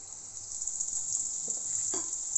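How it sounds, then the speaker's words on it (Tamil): Spices fry in oil over a low flame for a country chicken curry, giving a steady, soft sizzling hiss with one brief louder crackle near the end. "மெதுவாக சிறு தீயில் வச்சு நல்லா ஃப்ரை பண்ணணும்"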